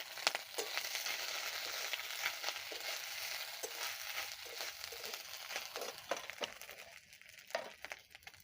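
Grated coconut goes into a hot frying pan with bay leaves and dried red chilies, setting off a steady, fairly loud sizzle with scattered crackles and pops throughout, with no talking.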